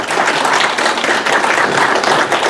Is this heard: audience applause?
yes